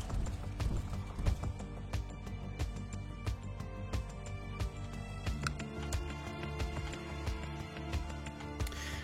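Horse hooves galloping in a strategy video game, a rapid rhythmic clip-clop of many hoofbeats running steadily from start to finish, with an occasional whinny under a sparse musical backdrop.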